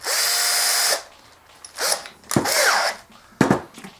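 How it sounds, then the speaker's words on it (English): A 10mm drill running in reverse whirs in several short bursts, the first about a second long, then stop-and-start runs with quiet gaps between them, close by. "take a 10mm drill"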